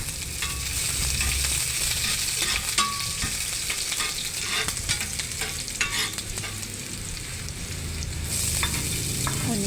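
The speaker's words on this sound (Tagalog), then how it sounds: "At ngayon magisa na tayo ng ating mga aromatics like garlic mince" Minced garlic and other aromatics fry and hiss steadily in a hot pan while a utensil stirs and scrapes through them; a close, continuous sizzle runs the whole time with no talk over it.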